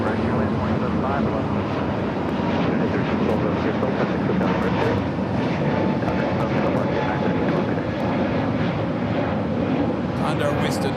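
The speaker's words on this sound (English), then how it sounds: "Condor wasted no time there on the taxiway, heading down to 25 right" A Condor airliner taxis toward runway 25 right at LAX, giving a steady, moderately loud engine drone and rumble, with voices talking over it throughout.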